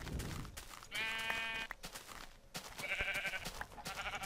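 A Minecraft sheep bleats twice, close and clear, with a short pause between the calls and light game noise in the background.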